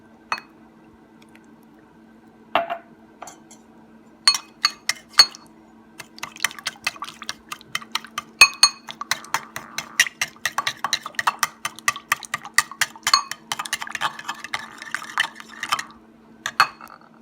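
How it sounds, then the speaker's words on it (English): Extra virgin olive oil and Marsala wine being mixed together, heard as a run of light clinks, taps and scraping of a utensil against a dish, sparse at first and then busier and more continuous, close by with a low steady hum beneath. "we have extra virgin pure olive oil and Marsala wine. So we're gonna mix these."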